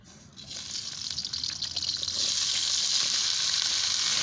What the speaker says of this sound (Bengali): সবজিগুলোকে এখন ভেজে নিব কারাই দিয়ে দিচ্ছি সর্ষের তেল